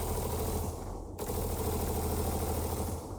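The new version of the Star Citizen SMG fires a sustained automatic burst of rapid, evenly spaced shots, with a brief dip in the middle, loud and close throughout.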